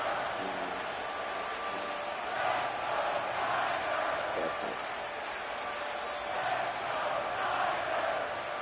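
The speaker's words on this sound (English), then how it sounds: "This crowd turning up the decibel level." Stadium crowd in the football video game Madden NFL 25 roars in a steady, dense wash of cheering that swells slightly, with commentary voices over it.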